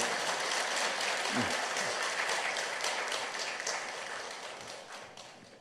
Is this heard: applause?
yes